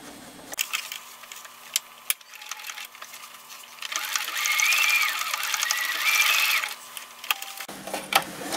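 A sewing machine stitching a fabric border onto the bottom of a towel, nearby, with a steady whirring run in the middle framed by clicks and handling noises before and after.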